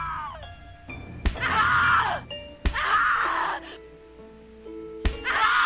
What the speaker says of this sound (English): Scream louder, little bitch. Scream your lungs out.